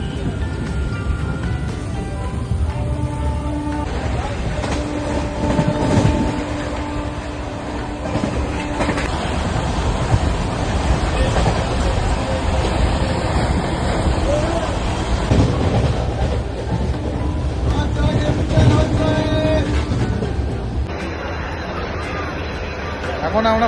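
A passenger train on the Kolkata to Bhubaneswar route rumbles steadily with rattling carriages and faint clicks, while voices chatter throughout the coach.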